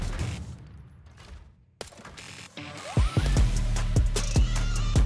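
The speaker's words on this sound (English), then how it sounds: "you can always go to the firing range to test out rate of fire and recoil" At a firing range in the video game Arena Breakout: Infinite, a rapid burst of sharp gunshots follows some mechanical handling noises, each report loud and close, with no speech.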